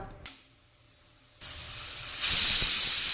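A pressure cooker cooking mutton kosha lets out a loud, rising steam whistle that builds into a sustained hiss, after a quieter stretch of faint background noise.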